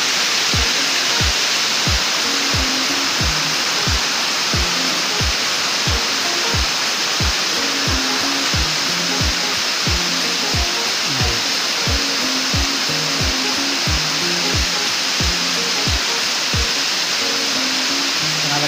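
Aruyan Falls in Sablayan, Occidental Mindoro, pours as a loud, steady broadband roar that fills the whole scene, with regular low thumps repeating beneath it throughout.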